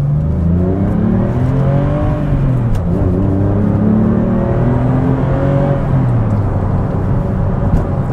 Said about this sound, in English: I think we're going to accelerate a bit.